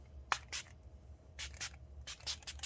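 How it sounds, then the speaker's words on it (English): Makeup setting spray is misted onto a face in a quick series of short, close spritzes, grouped in pairs and threes, soft hissing bursts against a quiet room with no talking. "So I am going to spray my face."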